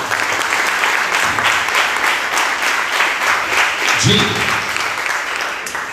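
An audience at a church gathering breaks into a loud, sustained round of applause, a dense wash of many hands clapping, with a brief spoken word and a low voice near the end.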